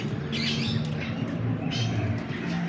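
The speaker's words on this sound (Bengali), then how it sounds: "বিভিন্ন প্রজাতির কবুতর এই খাঁচার ভিতর আছে" Pigeons of several species in a zoo cage coo and squawk in short overlapping calls, close by over a steady background hum.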